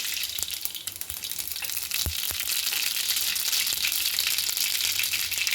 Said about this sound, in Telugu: నూనె కాయింగ్ అయినాక ఒక రౌండ్ ఆవాలు వేసుకోండి.